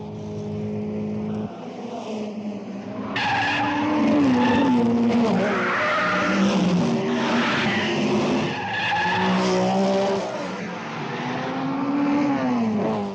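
Race cars at full speed, engines roaring loudly and changing pitch as they pass, with repeated tire skids and squeals throughout, the kind of scene a Monte Carlo circuit with its banked corners produces.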